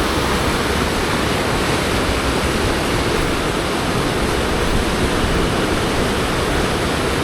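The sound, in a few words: flowing flood water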